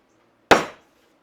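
A single sharp hammer blow on car door panel boards laid on a concrete surface, for a Chevrolet Caprice interior; one crisp knock that decays quickly into silence.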